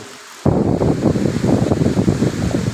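Strong gusting wind ahead of a rainstorm at a Buddhist temple in Chae Hom, Lampang, Thailand: after a brief quiet moment, a loud, steady roar of wind buffets the microphone with rumbling low gusts.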